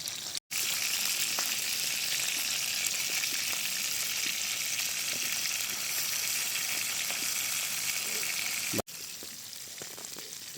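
Crabs deep-frying in hot oil with garlic, a steady loud sizzle and bubbling crackle that keeps going, broken by two brief cuts, with no voices.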